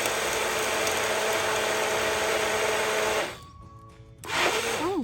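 A loud, dense whirring BlendJet 2 portable USB rechargeable blender motor blending ice, grinding steadily, cutting out briefly, then revving back up with a rising whine.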